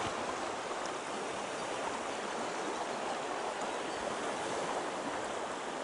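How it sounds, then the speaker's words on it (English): The rough water of a strong river current rushes in a dense, even roar that never lets up, with no voices heard. "The water is a bit rough here though"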